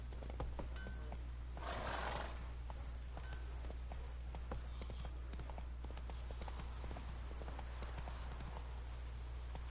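Horse hooves clip-clop at a fast gallop in a PS4 video game, a quick steady rhythm of hoofbeats over a constant low hum, with a brief whinny early on.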